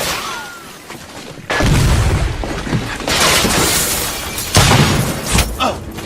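A grenade goes off in the video game The Order: 1886, a heavy boom with shattering debris that hits suddenly after a quiet stretch. A second blast follows later amid continuing loud combat noise.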